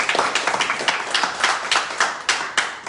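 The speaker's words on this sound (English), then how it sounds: "So let's give the Lord a hand clap this evening." Audience at a ministry school service clapping together, a steady rhythmic run of sharp hand claps up close that fills the room for a few seconds.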